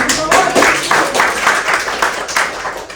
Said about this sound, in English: Let's have a round of applause for all.